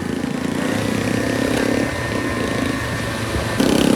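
A motorcycle engine runs steadily on a group ride, a continuous mid-pitched hum close by with no talk over it.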